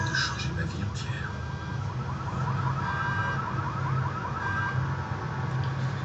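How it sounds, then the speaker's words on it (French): An alarm triggered in the Watch Dogs video game, a continuous wailing siren-like tone sweeping up and down over dense, loud background noise. "Déclencher l'alarme."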